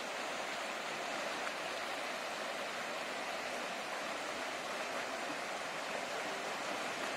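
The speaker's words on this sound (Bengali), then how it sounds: "কি জলের স্রোত" A strong water current rushing along a river or stream in green countryside in Jharkhand or Odisha, a steady, even roar of flowing water throughout with no talking.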